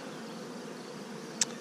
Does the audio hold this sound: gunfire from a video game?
no